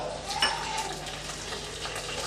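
Peanuts and dried red chillies fry in a pan for lemon rice, a soft, even sizzle close by with a brief light clink near the start.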